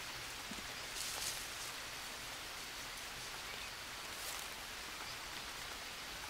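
Steady rain in the jungle survival video game Green Hell, a soft, even hiss of falling drops that stays constant throughout, faint and distant, with no voices.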